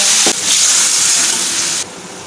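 A splash of water hits a pan of frying masala with chili powder, cumin powder and ginger-garlic paste, bursting into a loud hissing sizzle that holds steady, then drops abruptly to a quieter simmer.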